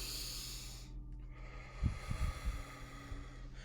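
Deep rhythmic breaths during a breath-work energy exercise, a few low snort-like inhales and exhales clustered in the middle, close and fairly quiet over a steady hiss.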